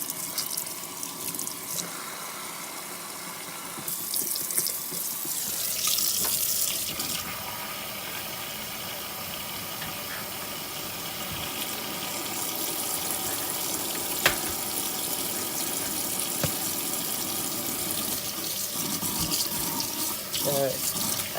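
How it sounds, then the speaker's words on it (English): Cold water runs from a kitchen sink faucet while chicken is being prepared for cooking: a steady, hissing stream that starts after a few seconds, continues at a constant level, and has occasional clinks and small splashes. "let's turn on this cold water"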